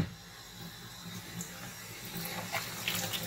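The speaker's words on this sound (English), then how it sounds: "Rinse it out a little bit." Water runs while a Graco TrueCoat Plus II paint sprayer is rinsed out, a quiet steady splashing hiss that builds slightly toward the end, with no speech.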